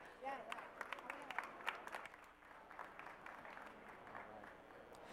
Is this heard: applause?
yes